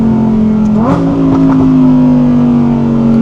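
Loud 2023 Audi R8 GT pulling under acceleration, the engine note climbing sharply after a brief blip then holding a strong, steady exhaust roar, close-up and alone.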